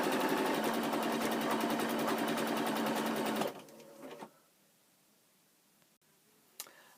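A sewing machine running an overlocking stitch along a curved pyjama seam, a fast, steady mechanical whir that stops abruptly partway through, followed by a few faint clicks and near silence.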